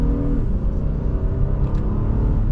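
A 2026 Honda Passport Trailsport S SUV accelerates, its engine holding a steady, close, fairly loud drone heard from inside the cabin with no one talking.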